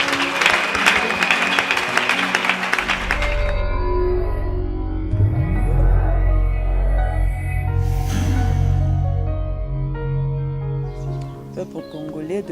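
A church congregation applauding and cheering after a call to praise the Lord, a sustained loud clapping crowd with music and voices mixed in, swelling and continuing across the whole stretch.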